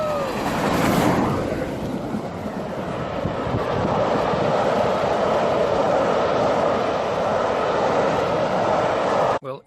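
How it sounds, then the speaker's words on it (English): The Flying Scotsman steam locomotive passing close by, a loud, steady rumbling roar of the engine and carriages with a brief whistle-like tone near the start, sustained for several seconds before ending abruptly. "Ladies and gents, the Flying Scotsman."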